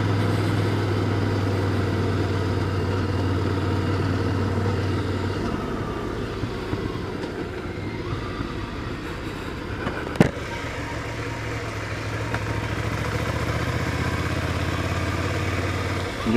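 A Ducati Scrambler 800 Icon engine idles close by with a steady, throbbing mid-range rumble that drops slightly partway through, broken by a single sharp click.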